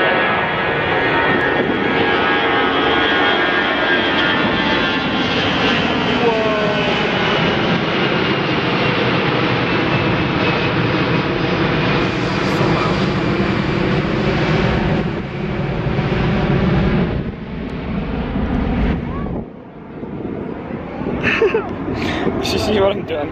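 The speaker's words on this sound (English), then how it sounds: "Airplane." An airplane passes overhead at a beach, a loud, sustained engine roar that swells and slowly fades, with people talking over it.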